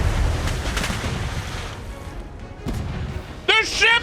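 Ship cannons firing in a DarksideRP pirate-style game: a rumbling boom over wash-like ocean noise, followed by a sharper shot or crack, with a voice briefly speaking near the end.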